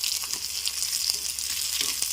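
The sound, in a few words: spices frying in oil for vakkaya dal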